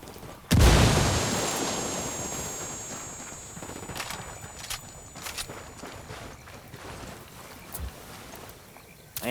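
A frag grenade in Ghost Recon Wildlands detonates with a loud sudden blast that rumbles and decays over a few seconds, followed by scattered fainter pops and thumps.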